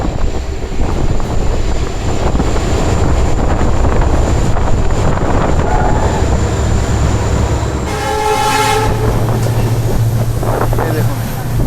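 An express train on a Kolkata-to-Mizoram route running through a tunnel fills with a loud, unbroken roar that shifts in tone near the end, close and enveloping.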